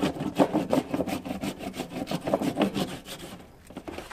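Surf wax rubbed onto a surfboard resting on a tire-mounted tailgate table, rapid rhythmic back-and-forth scrubbing strokes, close and fairly loud, easing off near the end with no talk.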